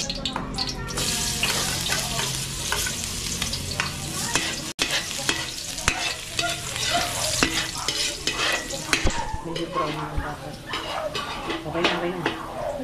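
Food sizzles and fries in a pan while being stirred, with a continuous crackle broken by scraping strokes throughout and some talk at the edges.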